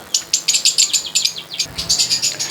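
Zebra finches and lovebirds in a small home aviary colony chirp in quick repeated bursts, a lively overlapping run of high tweets close by with no talking.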